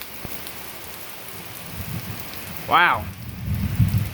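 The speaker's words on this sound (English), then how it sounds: "this is going to be a pretty good thunderstorm. Oh, well, the heavy rain," Rain falls steadily during a thunderstorm, a soft constant hiss, while a voice exclaims briefly midway and low rumbles swell near the end.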